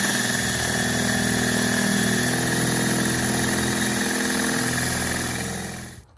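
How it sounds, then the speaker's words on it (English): A drill bores holes in metal for a rocket stove, a steady, loud, buzzing motor drone with a constant pitch that runs continuously before fading out at the end. "we're about to start drilling holes"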